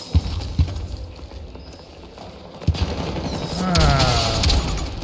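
Gunfire in a video game shooter, a few sharp scattered shots over a busy, rumbling battlefield background with a whooshing sweep near the end.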